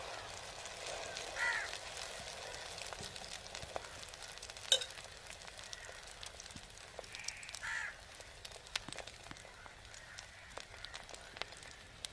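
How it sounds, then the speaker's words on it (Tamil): An egg fries on a dosa pan over a stove with a faint, steady sizzle, while crows caw nearby now and then and small scraping clicks sound over it. "இப்போ முட்டை பொறிக்க தோசைக்கெல்லாம் அடுப்பில் வைப்போங்க"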